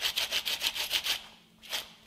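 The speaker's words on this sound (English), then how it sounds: "So if you wonder what does a clutch sound like when it's starting to go bad" A car's worn clutch throw-out bearing makes a rhythmic rasping whir in quick even pulses that fades and returns once, moderate and close with no talk.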